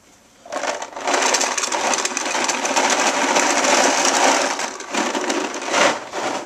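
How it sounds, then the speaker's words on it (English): Paintballs pour into the hopper of a Planet Eclipse Ego 10 marker in a steady, dense rattling clatter lasting several seconds, close and loud, with no talk. "I'm just gonna put maybe a third of a hopper in"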